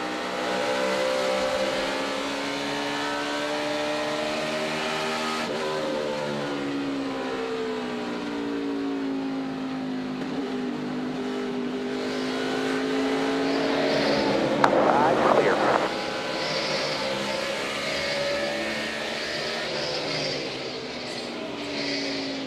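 Onboard roar of a NASCAR Sprint Cup race car at Phoenix in 2012, a loud, sustained engine note rising and falling through gear changes and corners, with a brief burst of rattling noise midway.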